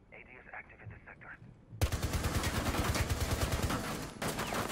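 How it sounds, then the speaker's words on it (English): Video game gunfire erupts after a quiet moment, a loud rapid automatic burst rattling steadily for over two seconds, with a voice murmuring faintly before the shots begin. "I'm being shot at."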